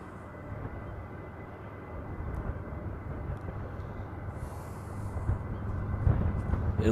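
Boeing 717 airliner departing on the reef runway in Hawaii begins its takeoff roll, a steady distant jet engine rumble that slowly builds in loudness, heard alone without talk.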